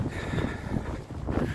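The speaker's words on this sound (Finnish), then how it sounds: "Täällä on nyt pakkasta semmonen 8 astetta ja tuulee aika reippaasti." Strong wind buffets a microphone outdoors in about eight degrees of frost, a steady low rumble with gusts that rise and fall. It fills the whole stretch and no one speaks.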